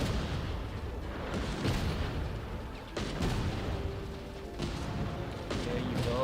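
Heavy gunfire from a weapon in the Genshin Impact video game, sounding as loud sustained booming shots and bursts that fill a dense battle mix, with a voice talking over it.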